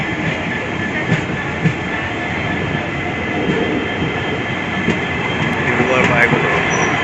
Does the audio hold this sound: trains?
yes